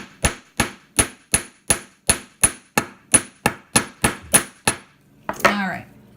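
About fourteen sharp metallic hammer strikes on aluminum wire in a steady, fairly quick rhythm, close and loud, followed by a brief scraping rustle.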